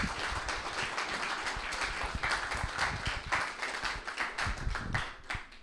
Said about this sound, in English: So if you can give them a round of applause, please.